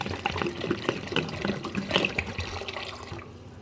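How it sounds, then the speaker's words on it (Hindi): Water poured into a pot of white chickpeas in a home kitchen, a steady splashing, gurgling flow close by that thins and stops near the end. "अब मैं इसमें पानी ऐड कर दूँगी।"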